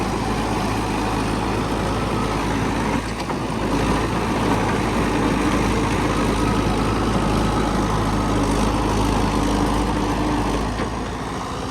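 A tractor's heavy diesel engine idles steadily with a deep, constant rumble throughout, close and unbroken.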